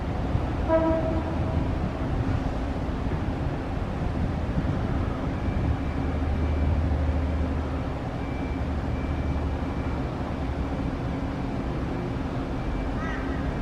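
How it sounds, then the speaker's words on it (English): A Brisbane Metro bus rumbles in nearby with a low, steady drone, a brief horn-like tone sounding at the start. "And here comes the metro."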